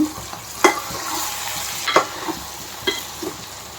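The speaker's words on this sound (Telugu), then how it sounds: "ఇప్పుడు కొంచెం కలపండి" Okra for a prawn and okra curry is stirred in a hot pan. A steady sizzle runs underneath, and a spatula scrapes and taps in three or four distinct strokes close by, with no talking.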